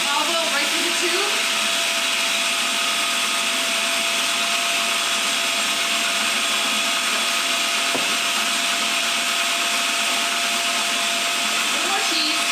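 A food processor blends kale pesto with olive oil poured through the feed tube, a loud steady whirring drone running throughout with a brief knock partway through.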